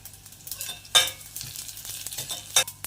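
Garlic cloves, green chili, ginger and a piece of cinnamon frying in a pan, with soft, intermittent crackles and spatters and a few sharper stirring clicks, fairly quiet and close.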